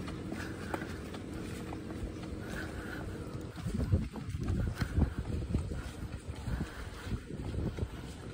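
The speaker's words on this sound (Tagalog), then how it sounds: "Good for me kasi mahangin." Wind blows steadily outdoors during a walk around a neighbourhood in Japan, a constant rushing hiss with low buffeting gusts against the microphone that grow rougher toward the end.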